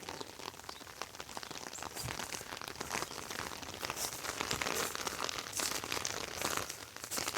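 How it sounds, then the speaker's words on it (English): Sleet and freezing rain fall during an ice storm, a faint, constant hissing patter of icy pellets ticking on frozen surfaces, with scattered sharper crackles and no voices. "All of that is sleet and freezing rain."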